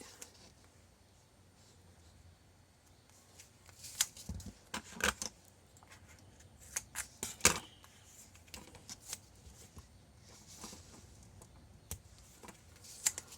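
Double-sided 3D foam tape is pressed onto a paper circle for a handmade card, giving faint close crinkles, taps and small peeling clicks scattered irregularly over a quiet room background.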